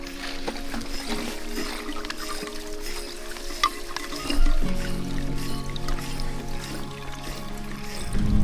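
A small creek flowing near a campsite on a long hike between Karluk and Akhiok, a steady close trickle and gurgle with a deeper, fuller rush of water partway through, continuous and fairly loud.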